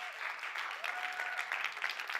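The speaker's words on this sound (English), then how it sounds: "Let's all please give him a huge round of applause and welcome to the stage" Warm audience applause welcoming a speaker to the stage at a COP28 hangout event, steady moderate clapping from a crowd with no speech over it.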